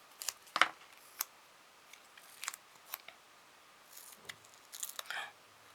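Scissors cut paper in a card-making craft session with a series of soft, crisp snips and short rustles scattered irregularly, quiet and close, with no voice over them.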